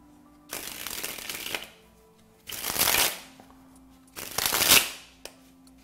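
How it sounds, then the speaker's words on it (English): Playing cards sprung from one hand to the other in a card spring flourish, three quick riffling bursts each building to a crisp flutter, separated by short pauses, close and alone. "And that's the card spring."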